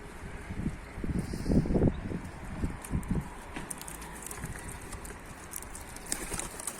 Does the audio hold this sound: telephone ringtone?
no